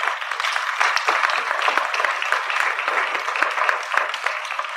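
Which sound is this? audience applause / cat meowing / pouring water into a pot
audience applause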